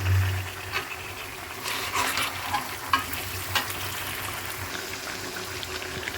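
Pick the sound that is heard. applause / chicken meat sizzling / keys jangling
chicken meat sizzling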